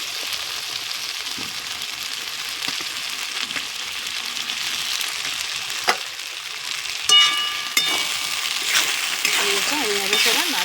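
Potatoes crackle and sizzle in hot spiced oil with a continuous close frying hiss, broken by occasional clinks and scraping as they are stirred.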